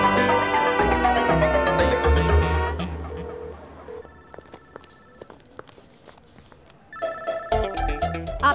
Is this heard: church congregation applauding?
no